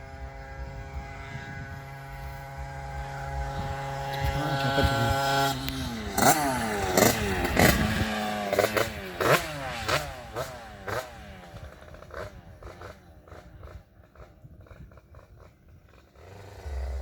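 A homemade motorcycle engine, freshly broken in and with its carburetor just tuned, idles and then revs hard through repeated rising pitch sweeps as it is ridden. Its sharp throttle blips drop back into a rough, steady drone.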